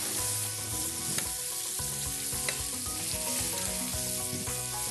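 Meat and vegetables sizzle steadily in a frying pan, a loud, continuous crackling hiss with occasional scraping knocks as the food is stirred, close and with no voices.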